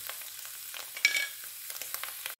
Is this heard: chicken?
yes